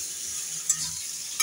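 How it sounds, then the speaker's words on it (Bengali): Potatoes, onions and prawns fry together in a pan with a soft, steady sizzle and a couple of brief clinks of stirring; the clip is short and quiet, with no one speaking. "দেখুন বন্ধুরা এবারে আলু পেঁয়াজ আর চিংড়ি একসাথে ভাজা হচ্ছে।"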